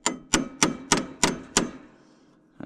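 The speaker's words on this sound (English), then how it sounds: "I went and found a old used starter gear here. And a punch and a hammer." Six sharp metallic hammer blows on a punch, struggling to drive a used starter gear off a 1979 John Deere Model 68 riding mower, evenly spaced and close, followed by a pause and a faint final tap.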